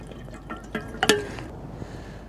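Water is poured into a small old kettle at a beach camp, heard as a short run of splashing, trickling and metallic clinks, fairly close and with no talking.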